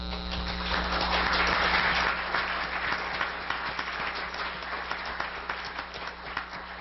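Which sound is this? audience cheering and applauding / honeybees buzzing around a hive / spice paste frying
audience cheering and applauding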